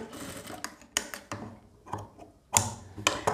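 A sewing machine stitches a hem on a blouse in short, uneven runs of rapid mechanical ticking, with brief pauses between bursts and a louder run near the end.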